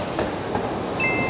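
Train at a station platform ahead of a trip to Mecca, a steady rumble of rail noise with faint wheel squeal and brief high metallic tones, close and continuous with no talk.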